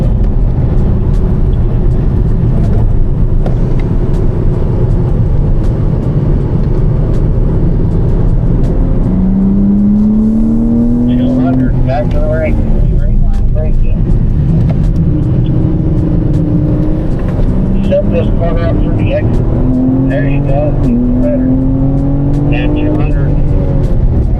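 A race car on a circuit pulls hard through the gears, its engine loud and close throughout as it rises in pitch, then drops under braking and climbs again, with a driver talking over the noise.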